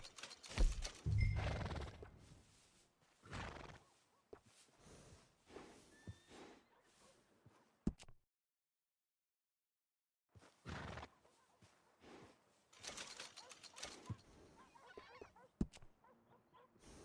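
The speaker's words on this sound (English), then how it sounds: "And a fine new horse." Horse neighing and hoof clops in Red Dead Redemption 2, with loud bursts early on, a silent gap in the middle, then more busy game sounds toward the end.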